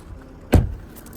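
A Range Rover Velar's electric boot gives one short mechanical thump midway, with a brief whirr as it fades out. The rest is quiet, with no voices.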